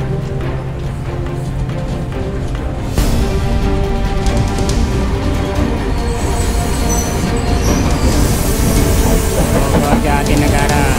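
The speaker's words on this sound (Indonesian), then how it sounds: "Kereta KRL Bogor." A KRL commuter electric train on the Bogor line rumbles past nearby, its steady rolling noise swelling partway through and continuing loudly with faint rail clatter and a higher whine toward the end.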